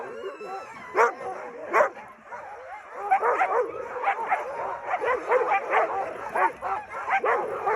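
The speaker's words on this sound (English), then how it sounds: "I will leave the original audio at the beginning just for you to hear the dogs" Excited sled huskies in Lapland, Finland bark, yip and whine in a rapid overlapping chorus before a run. A few loud barks come first, then the pack grows busier and more continuous, fairly close by.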